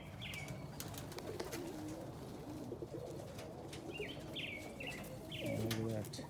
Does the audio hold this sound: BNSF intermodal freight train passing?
no